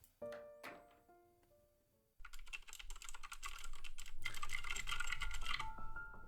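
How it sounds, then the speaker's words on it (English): Fast, continuous clicking of keys on a computer keyboard in an office setting starts abruptly after a soft chime-like tone and fades, growing denser and louder over several seconds with no voices. "The keys clicked in a rapid rhythm."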